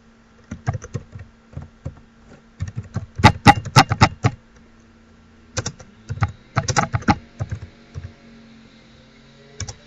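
Bursts of typing on a computer keyboard, crisp, close keystrokes in irregular clusters separated by short pauses, with no talk.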